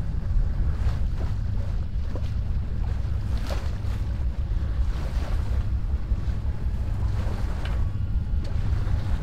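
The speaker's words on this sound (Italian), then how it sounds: "L'onda che entra proprio nella barca, che ci fa bagnare" Sea waves splash and wash into a small boat on rough water, with continuous wind buffeting the microphone and repeated sloshing surges over a constant low roar.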